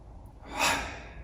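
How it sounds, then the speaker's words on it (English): A single slow inhale drawn in through the nose during Shotokan karate punch practice, a soft airy rush that swells and fades over about a second, close and quiet with no talking. "I breathe in through the nose, out through the mouth."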